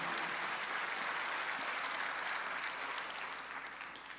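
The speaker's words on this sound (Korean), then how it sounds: "박수 하나 주세요" Church congregation at a Sunday worship service, a dense, even round of applause from many hands, steady and fairly distant, tapering off toward the end.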